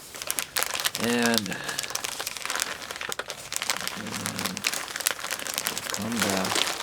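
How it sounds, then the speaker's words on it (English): Wrapping paper crinkles and crumples as it is folded around the ends of a present, in bursts of crackling rustle, with a person talking briefly in between. "Maybe fold in on this other end as well"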